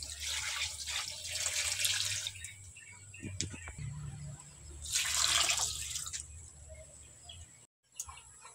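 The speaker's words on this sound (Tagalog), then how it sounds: "Tapos lagyan natin ng tubig" Water splashes into a cooking pot of sweet potato leaves in two noisy gushing bursts separated by quieter dripping. Birds chirp faintly in the background, and no one speaks.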